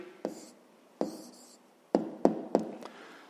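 Pen writing an answer in a fifth-grade maths exercise, a series of short scratchy strokes with taps in between, close and fairly quiet, separated by brief pauses.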